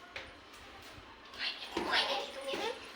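A dog whines and yelps at close range in a village setting, its cries rising over a background of people talking.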